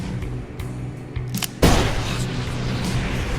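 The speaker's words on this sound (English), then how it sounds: "That sounded like a gunshot." A pistol gunshot rings out in the Seduce Me 2 video game, one sharp loud crack that breaks a quieter stretch and trails into a rumbling, echoing decay.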